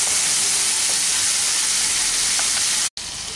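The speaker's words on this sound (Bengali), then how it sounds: "আর একটু মশলাটা কষিয়ে নিচ্ছে।" Spice paste with garam masala powder and a little sugar sautéing in a pan for a leftover-rice dish, a steady close broadband sizzle and hiss throughout with faint stirring, cutting out for an instant near the end.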